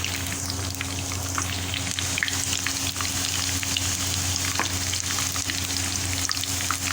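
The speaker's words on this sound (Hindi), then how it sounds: "ये साबुत लाल मिर्च है जो कि बघार में डाली जाती है" Two or three whole dried red chilies fry in hot tempering oil for a whole masoor dal, a busy, even crackle and sputter that runs unbroken from start to finish, close up. Nobody speaks.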